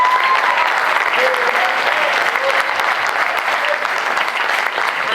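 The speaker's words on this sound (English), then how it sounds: "Give them a round of applause." Audience at a criminal justice reform and second chance panel applauds the panelists, steady, dense clapping from a large crowd that carries on evenly throughout.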